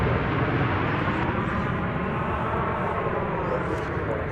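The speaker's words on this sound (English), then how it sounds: "American Flight 1820. It's an Airbus A321" An American Airlines Airbus A321 at DFW Airport, its engines making a steady, loud broadband roar that holds constant throughout.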